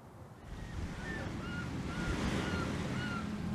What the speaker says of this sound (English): powerful waves crash against the shore